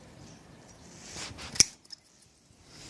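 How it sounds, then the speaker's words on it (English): A single sharp, close snip of pruning shears cutting through a grapevine branch in a garden, with faint rustling of the vine before it and quiet afterward. "from this part we cut it off."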